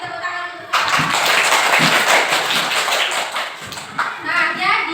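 A classroom of students claps together in a microteaching biology lesson, a dense burst of hand claps lasting several seconds, close and fairly loud, with a teacher's voice talking before and after.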